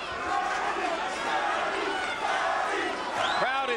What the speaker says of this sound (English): Crowd is lifting Arturo Gatti